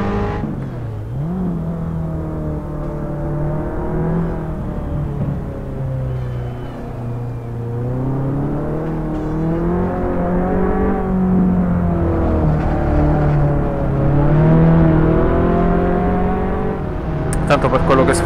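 A small Abarth 500 EsseEsse engine in Assetto Corsa at Magione revs through the gears and then drops as the car brakes, with a steady engine drone running under continuous talk.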